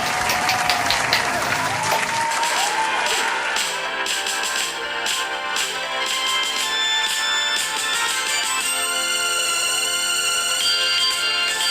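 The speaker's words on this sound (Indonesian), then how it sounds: "Kasih tepuk tangannya dong." Applause at an online children's special-needs church service, continuous clapping under loud music with bright sustained tones, filling the whole stretch at a steady level.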